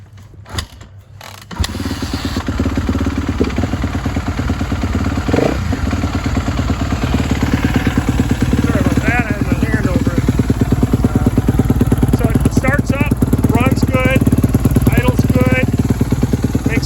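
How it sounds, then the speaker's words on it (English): A 2016 Suzuki RMZ250 dirt bike engine catches after a few quiet seconds, then runs loud and close with a rapid, rattling idle and several sharp revs near the end, while someone talks over it. "Let me choke it here. Let me get it going."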